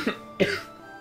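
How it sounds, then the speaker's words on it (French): Two short coughs, close and fairly loud, sound in quick succession, the second harsher and longer with a throaty rasp, followed by quiet. "Je l'ai tellement fait rire qu'il en a toussé."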